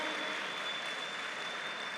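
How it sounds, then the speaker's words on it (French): Steady applause from an arena crowd at a Brazilian jiu-jitsu semifinal, a dense even wash of clapping that holds at full strength throughout with no voices breaking through. "on applaudit vraiment bien fort ces deux protagonistes"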